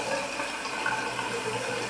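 A bidet sprays hot water in a steady, even hiss from close by, with no talking.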